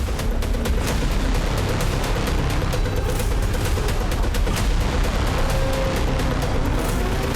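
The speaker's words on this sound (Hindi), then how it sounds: "विध्वंसक धमाका, जमीन को थर्रा देने वाली चोट" A dense, continuous rumble of blasts and booms with crackling bursts, loud and unbroken throughout, from Iranian missile and drone strikes on US bases in Kuwait.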